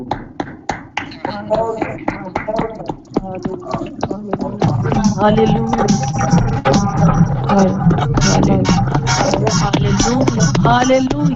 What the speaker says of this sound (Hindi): और जोरदार तालियां बजाएं।